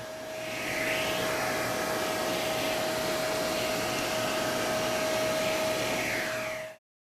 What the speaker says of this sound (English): You can further reduce the mold by using a natural bristled brush and brushing into the nozzle of the vacuum.